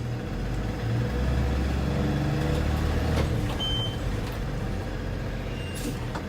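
A 2018 Thomas C2 school bus stops abruptly on its air brakes, its low engine rumble and road noise easing down, with a short hiss near three seconds and no talk.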